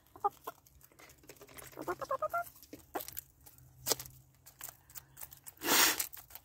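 Backyard hens just fed oyster shell, grit and feed during a snowstorm cluck softly and intermittently up close, with scattered soft pecks and a louder flurry of noise near the end.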